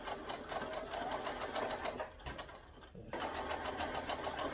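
An SE 1900 embroidery machine stitches a Christmas design onto a onesie with a steady, rapid needle chatter. The close mechanical buzz runs continuously and dips briefly mid-way before resuming at full pace.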